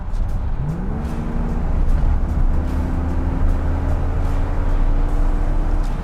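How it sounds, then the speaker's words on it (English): A white 1982 Corvette kicks down and accelerates hard toward redline, its engine rising in one steady loud climb that then holds at high revs as a continuous roar from inside the car. "so I'll just kick it down here to try to get it up to full RPM"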